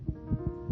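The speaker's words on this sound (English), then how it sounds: "This is the sound of a racing heart." Quick, muffled heartbeat thumps of a young child's racing heart, four soft low pulses in under a second, with a faint background hum.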